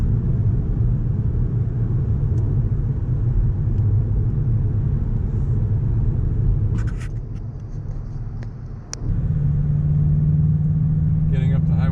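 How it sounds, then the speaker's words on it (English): A Volkswagen Jetta GLI accelerates up to highway speed, heard as a steady engine and road rumble from inside the car. The rumble dips briefly, then returns at full strength. "Getting up to highway speed with this car is no problems at all."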